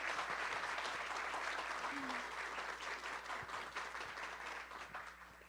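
Audience applause for a speaker at an industry panel event in Rio, a dense, steady clapping from a full room that holds level and then slowly thins out toward the end.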